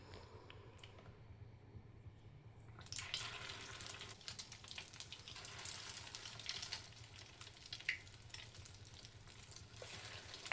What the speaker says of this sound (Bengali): একে একে সবগুলো জালি কাবাব আমি তেলে ভেজে নিব।